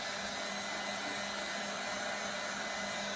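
A hair dryer blows steadily and loudly to dry chalk paint on a mason jar, giving a constant broadband whoosh with a faint motor hum and no break or change across the stretch.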